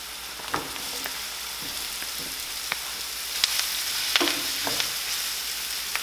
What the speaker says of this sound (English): I like to saute my onions first. Next, I wanna add my mushrooms.